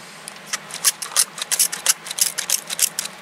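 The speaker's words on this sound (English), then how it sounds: "I'm going to take my spray bottle" Hand spray bottle misting water over seed trays of cold-season vegetable seedlings such as broccoli and cabbage, a rapid series of close, hissing squirts in an uneven rhythm.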